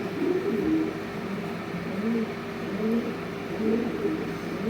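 Pigeons in a flock coo softly and repeatedly in low, rolling phrases over a steady background hum, with faint traffic noise in the distance.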